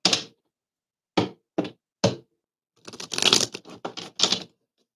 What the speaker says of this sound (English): Let me shuffle real quick.